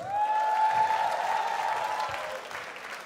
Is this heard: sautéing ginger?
no